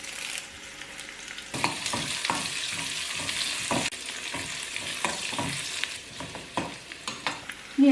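Two sprigs of curry leaves hit hot oil already holding chopped onion, ginger and green chilli, giving a sudden loud sizzle and spitting crackle, then steady frying with repeated stirring scrapes; close up, no voices.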